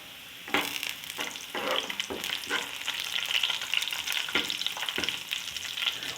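Cumin seeds hit hot oil for a pot of moong dal and set off a loud, steady sizzle, punctuated by a few sharper crackles and stirring sounds.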